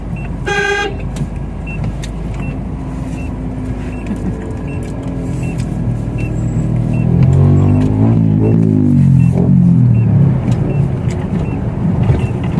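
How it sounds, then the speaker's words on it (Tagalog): A tricycle's motor drones steadily along a rough road, loud and close, with a short horn toot at the start and rising engine strain later. "Tricycle."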